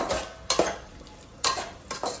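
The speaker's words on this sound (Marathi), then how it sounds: "हलवून घेऊया." A utensil scrapes and stirs through thick chicken curry in a pot, a few distinct strokes with quiet pauses between them.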